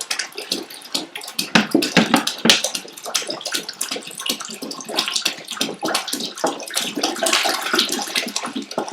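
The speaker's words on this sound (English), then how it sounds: "measure how fast the water moves through this 1 meter long plastic tube" Pumped water gurgles and splashes as it flows through a one-meter plastic tube, a loud, close, continuous bubbling rush with irregular spurts throughout.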